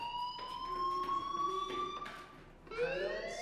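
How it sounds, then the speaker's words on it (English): A school fire alarm blares in the Life is Strange video game, a steady electronic tone with rhythmic pulses that pauses briefly and then returns with a rising wail, heard alone without talk. "Hey, do you hear that fire alarm?"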